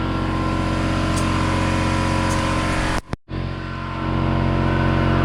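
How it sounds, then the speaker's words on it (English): An air compressor runs loud and close in a shop during misfire repair on a 2017 Can-Am Outlander 1000R, a constant droning motor that cuts out abruptly for a moment before resuming at full strength. "Sorry it's loud, air compressor's in here"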